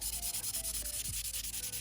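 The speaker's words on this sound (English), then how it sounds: "I'm just going to go over the entire body with a 400 grit sanding sponge" Rhythmic scratchy rubbing of a 400-grit sanding sponge over a BMW M4 model car body, quick regular back-and-forth strokes, close and continuous.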